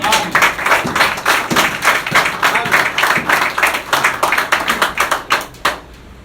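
Congregation clapping in church, a dense run of sharp hand claps that stays steady and loud, easing off near the end.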